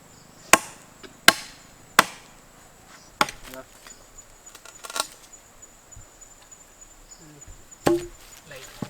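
Thorny branches are chopped by hand outdoors: several sharp, loud chops land about a second apart, then scattered lighter hits and rustling follow amid quiet background.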